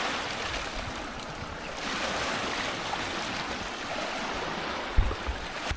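Sea waves at a beach resort in Lobo, Batangas, a steady broadband wash of surf with a brief thump near the end, moderately loud and unbroken, with no talk.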